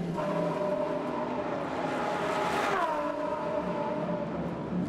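A Lamborghini GT race car pulls into the pit lane during a GT Masters race at Zandvoort, its engine a steady loud drone with a brief swell as it passes close by amid constant track noise.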